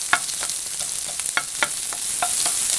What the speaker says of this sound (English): I'm going to drop the bacon in as well. I'm going to give that a stir around.